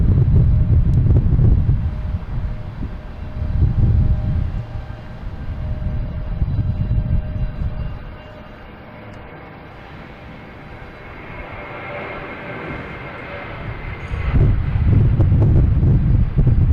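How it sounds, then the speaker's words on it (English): JetBlue Airbus A320 taking off at Boston Logan, a loud low roar surging in waves with heavy wind buffeting, dipping quieter in the middle before building strongly again. "we have JetBlue taking off, heading to Fort Lauderdale on A320 Flight 69"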